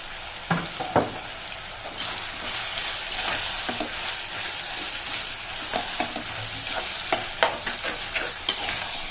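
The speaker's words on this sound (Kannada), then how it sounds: "ಇದೊಂದ್ಸಲ ಚೆಂದಾಗಿ ಮಿಕ್ಸ್ ಮಾಡಿಕೊಂಡು ಇದಕ್ಕೆ ಈಗಲೇ ಉಪ್ಪು ಹಾಕ್ಕೊಂಡ್ಬಿಡ್ತೀನಿ" Tomato kurma sizzles in a pan while being stirred, a steady frying hiss with repeated close scraping and clinking strokes of the spoon, no voices.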